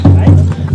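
A few quick hoof clops in an even rhythm close by, a horse walking on the mountain trekking trail to Yamunotri, with a low voice murmuring underneath.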